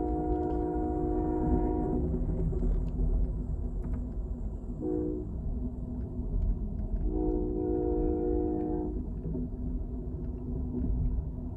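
Passenger train riding through Arizona, a steady loud rumble of cars on the rails throughout, with long horn blasts sounding twice over the rolling noise.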